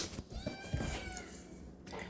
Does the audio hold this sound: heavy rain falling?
no